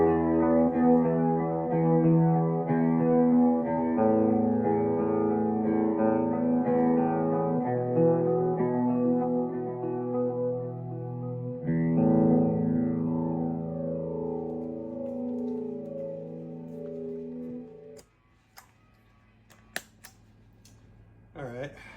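A clean electric guitar through delay, reverb and flanger pedals plays sustained, shimmering chords with long trailing repeats, switching chords every few seconds before fading, followed by a few faint clicks and taps near the end.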